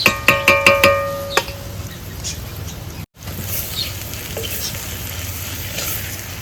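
Masala of coriander, chilli, turmeric, pepper powder and salt frying and being stirred in a pan for village-style prawn rice, with a run of sharp clinks at the start, then a steady close sizzle and soft scraping stirs.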